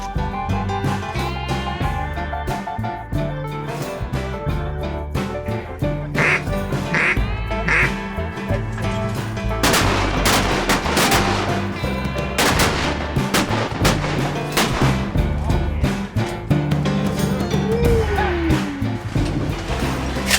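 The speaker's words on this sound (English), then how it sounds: "A lot of shells going at that bird." Shotguns fire at ducks during a duck hunt in flooded timber near Stuttgart, a dense volley of loud, close blasts amid constant duck quacking and calling, with brief shouted voices.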